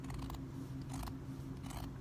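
Scissors snip the overlock thread on a dress, three quick close crisp cuts over a steady low hum.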